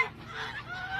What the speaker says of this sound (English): And these 3 guineas hang out with that turkey all the time.